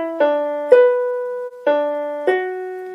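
A keyboard plays a short melodic phrase of sustained notes, each new note struck clearly and ringing out, close and fairly loud.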